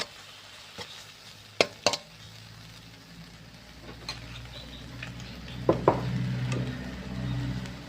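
Chili curry paste frying in a wok with a little water instead of oil, a low steady sizzle with occasional sharp clicks and scrapes of stirring, close and moderately loud.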